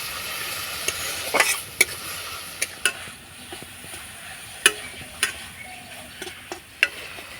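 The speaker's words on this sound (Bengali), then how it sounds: "তো নাড়াচাড়া করে আমি পুরটা তৈরি করে নিয়েছি পিঠের জন্য" A spoon scrapes and taps against a pan while jaggery and a little water cook into a sweet pitha filling. The clicks are sharp and irregular over a soft, quiet sizzle.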